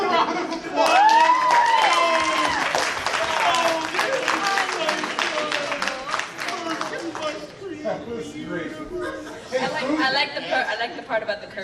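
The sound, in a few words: audience applause at improv show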